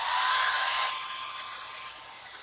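Hair dryer blowing to dry chalk paste on a box: a loud, close, steady whooshing hiss that cuts off sharply near the end, leaving faint room tone.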